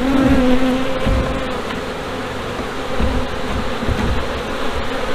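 Honey bees swarm and buzz loudly during a hive inspection on a farm with a mite problem, a dense continuous hum with individual bees droning close by.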